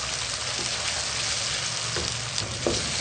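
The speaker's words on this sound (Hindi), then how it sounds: "अब हम इसमें टमाटर ऐड करेंगे। टमाटर को हम 1 से 2 मिनट गलने के लिए रखेंगे इस तरीके से।" Tomatoes fry in a pan for mash daal, a steady, close sizzle with occasional stirring scrapes and no talking.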